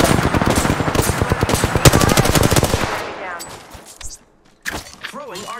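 Rapid automatic gunfire rattles loudly in a video game, a dense burst of shots for about three seconds that fades into quieter effects, with a voice chiming in near the end.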